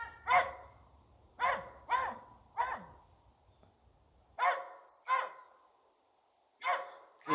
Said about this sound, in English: Are they barking because of me?